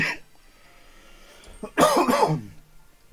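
A single harsh cough bursts out near the end, loud and close, after a quiet stretch with faint background noise.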